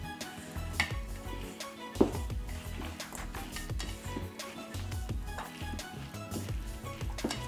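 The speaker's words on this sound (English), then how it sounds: "So then let's just mix everything together here." A vegan chickpea pasta salad with devil's flakes is tossed together in a bowl, giving irregular close scrapes, soft clinks and one sharper knock early on, with no talking.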